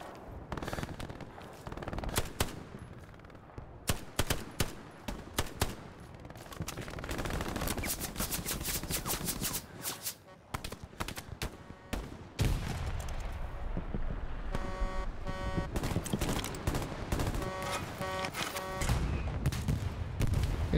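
Rapid bursts of MP40 submachine gunfire in the World War II shooter game Hell Let Loose, loud and repeated, mixed with other distant gunfire and explosions of battle throughout.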